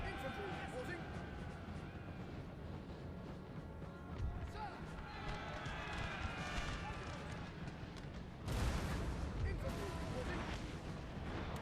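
Cannon fire booms in a busy Napoleon: Total War battle, with rumbling blasts over a constant din of combat, marching and distant shouting.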